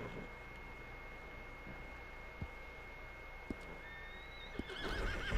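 A horse neighs and whinnies in the video game Red Dead Online, a faint call over a steady droning background hum, with a few soft knocks and a louder stir near the end.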